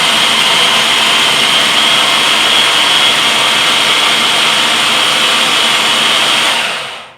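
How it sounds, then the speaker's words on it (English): Food processor on high churning thick chickpea brownie batter with peanut butter, a loud, strained, steady whirring motor that runs without a break before cutting off abruptly at the end. "this recipe, it's thick with that peanut butter, so it really makes my food processor work"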